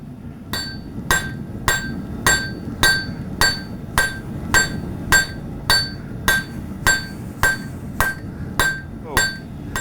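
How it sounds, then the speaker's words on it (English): Hammer blows on a knife blade being forged, about eighteen sharp ringing metallic strikes at a steady even rhythm, close and loud. "we're going to work our way down with our hammer blows"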